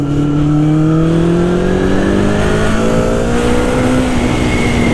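A Honda CB 750 café racer motorcycle engine revs steadily with rising tones, continuous and close, without clear separate backfire pops.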